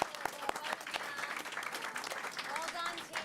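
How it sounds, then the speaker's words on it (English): A board of education meeting audience applauds the coaches, scattered clapping building into steady applause under overlapping talk. "Definitely a round of applause for our coaches."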